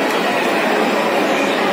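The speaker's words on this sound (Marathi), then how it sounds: "mini train type" Children's mini train rolling through a shopping mall, heard as a loud, steady rushing rumble that fills the space without any clear breaks.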